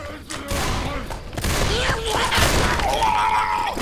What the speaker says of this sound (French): You do realize that you're shooting, right?